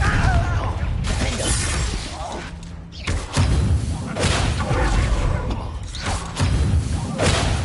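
Confringo blasting spells explode in Hogwarts Legacy, heavy thuds, booms and shattering bursts that come in waves, loud and close, with speech mixed in among the impacts.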